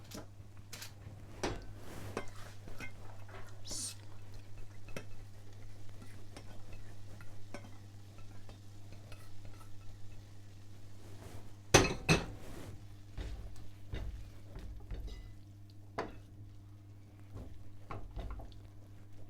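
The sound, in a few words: stirring and mixing cooked pearl barley lunch in a bowl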